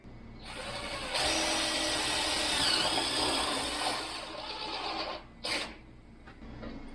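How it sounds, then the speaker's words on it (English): A power drill bores mounting holes in a classic 359 Peterbilt semi truck, a sustained grinding whir that rises and wavers under load for several seconds, then a short burst and stop, close and moderately loud. "Now we just need to drill out our holes for where we're going to mount this."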